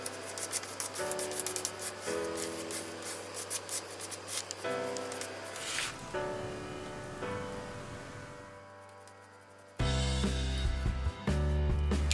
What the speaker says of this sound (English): Get a little more on the spatula and just continue where you left off.